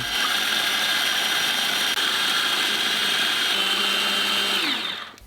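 A steady, loud motorized whir runs for about five seconds as a blender purées fried vegetables into sauce, then winds down and stops.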